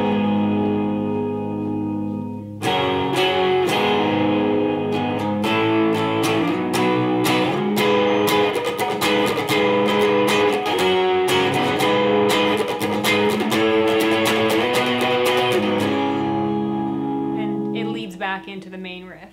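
Electric guitar plays a song's interlude, a fast stream of picked notes with effects and reverb, loud and steady for about fifteen seconds before ringing out alone.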